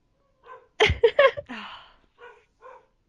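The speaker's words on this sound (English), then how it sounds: "And there's my dog barking." A dog barks several times close by, a quick cluster of barks followed by a couple of softer, separate yaps.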